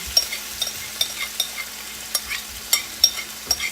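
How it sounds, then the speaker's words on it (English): A beef mixture spooned into a hot skillet for savory rice bowls, repeated light taps and scrapes of a spoon in an uneven rhythm over a soft background hiss, near and unaccompanied by talk. "once your skillets are nice and hot, you're gonna just take a little spoon and just put your beef mixture right in"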